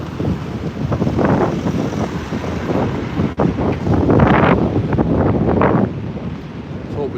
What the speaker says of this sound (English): it's a bit windy as we cross this section